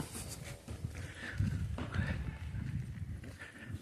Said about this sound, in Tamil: எல்லாம் மாடுகள்லாம் வெளியே வருது பாருங்க.